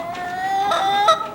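Chickens clucking in a backyard coop near a drinking water pipe fitted with a barrel-type float, a steady run of close, soft clucks and calls with no voices.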